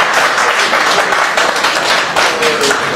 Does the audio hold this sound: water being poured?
no